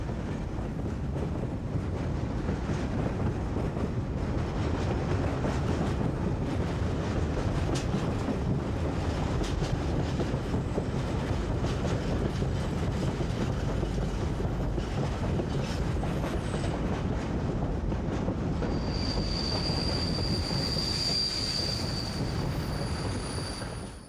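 Freight train hauled by an SNCF 63500 class Bo-Bo diesel-electric locomotive arriving at Blottereau Yard near Nantes, a steady loud rumble of rolling wagons and wheels with squeals near the end, no talk.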